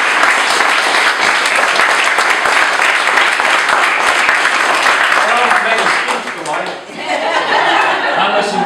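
A room full of guests at a surprise retirement party bursts into loud, sustained clapping, dense and close, easing slightly near the end with a few chuckles mixed in.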